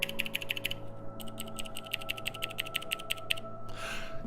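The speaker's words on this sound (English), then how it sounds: "hear that clicky sound? That's the blue switches that I'm using." Mechanical keyboard with blue switches being typed on, a close, crisp series of rapid clicky keystrokes in two bursts separated by a short pause, alone without talk.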